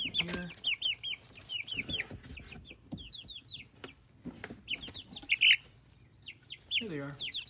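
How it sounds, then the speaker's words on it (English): Backyard chickens cluck and chirp close by in short, irregular bursts while pecking at a phone, with a few taps and a soft voice in the background. "They're actually pecking at the at the phone."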